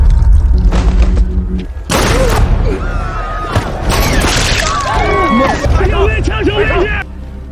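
A gunshot rings out in an action film about police: a heavy boom and crash opens the scene, followed by chaotic shouting voices and further impacts.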